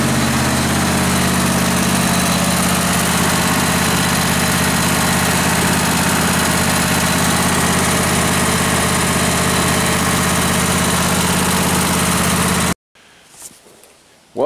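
A lawn tractor engine with a stall, misfire and lean-running fault warms up at idle, giving a loud, steady, close drone with a low rumble throughout. It stops abruptly near the end, and faint sounds follow.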